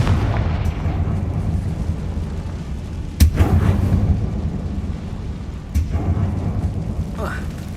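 Booming explosions from the Confringo blasting spell in the game Hogwarts Legacy, set in a tomb, with two sharp blasts followed by rumbling against a low background drone and a voice speaking.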